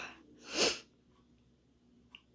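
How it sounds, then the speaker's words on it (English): A single close, brief sneeze bursts out sharply, then fades into quiet breathing with a faint sniff near the end. "Earlier, I had to sneeze on my right side, and now it's my left side."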